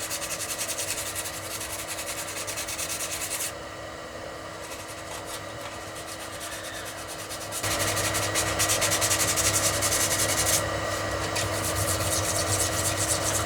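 Steady rasping of a 240 grit sanding block worked gently over a guitar neck around the glue areas, close and continuous, growing louder and denser partway through with a faint fan-like hum underneath; no talking.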